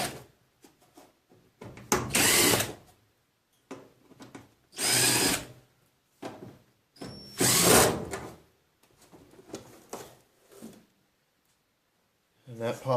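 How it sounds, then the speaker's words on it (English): A power drill backs out four screws from a washing machine panel in short, separate whirring bursts, close and fairly loud, with pauses of quiet between them and someone talking in the gaps. "Now we're going to take off 4 screws."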